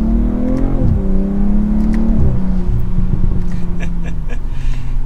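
A BMW M340 sport sedan accelerates hard, its engine note climbing in pitch through the gears with a brief dip at each shift, loud and steady throughout with no talking.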